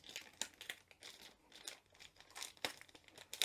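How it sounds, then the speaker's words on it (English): A glue strip is carefully peeled from a sealed plastic bag holding a diamond art kit, giving faint, close crinkles and small tearing crackles in short irregular bursts. "If we turn it over, we'll find there's a glue strip up here. So if we peel that carefully,"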